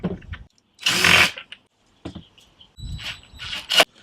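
Short bursts of a handheld power tool whir during the assembly of a camera dolly, several quick loud runs separated by pauses and small clicks and handling noises.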